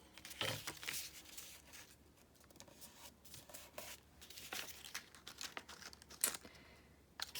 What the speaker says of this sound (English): take the bone folder and get us a little fold right there